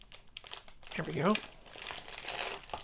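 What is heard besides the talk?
packaging being opened by hand, crinkling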